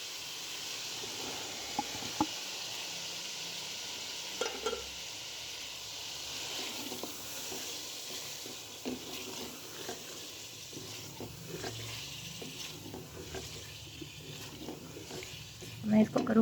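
Carrots and peas are stirred into a frying masala for matar gajar pulao, giving a soft, steady sizzle with scattered scraping taps of the spoon, close and moderately quiet, with a voice speaking at the start.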